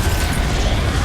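Spellcasting effects for Confringo and Defendo in the Hogwarts Legacy video game, a dense, steady rumble of magical bursts and mechanical clatter with no talking.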